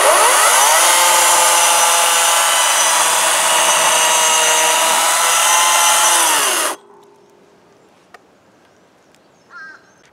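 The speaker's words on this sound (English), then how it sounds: "This Greenworks chainsaw is ideal for this kind of stuff." A Greenworks chainsaw cutting wood runs loud and steady at full rev for several seconds, then cuts off abruptly, leaving near silence with a couple of small knocks.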